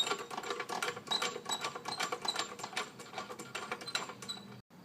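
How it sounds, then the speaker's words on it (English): A jack lifts the rear end of a 500 scrambler, making quick, repeated ratcheting clicks and light metallic taps at close range, fairly quiet, with no talking. "I've got a jack here to lift up the rear end to pull the wheel off, so I'll just jack this up real quick."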